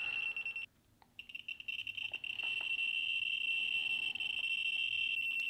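A Geiger counter in alarm gives a loud, continuous high-pitched electronic tone that cuts out briefly near the start, then resumes steadily with faint handling clicks underneath.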